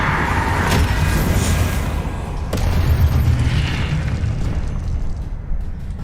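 A spell cast in the Hogwarts Legacy wizarding video game lands as a booming magical blast amid a dense, continuous rumble of game effects, with a sharp crack near the middle and sustained loud noise throughout.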